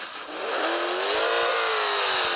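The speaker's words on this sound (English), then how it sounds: "Nice engine." A car engine revs at a car show, a steady loud mechanical roar with a rising tone held throughout, close by and without talk.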